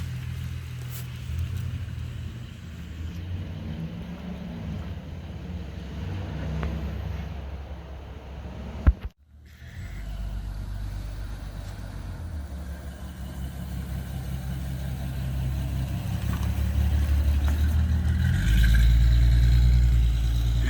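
A 1968 Rambler American runs on a street in Montreal, its engine holding a steady low rumble with a brief cutout partway through before the revs climb and the note grows louder near the end.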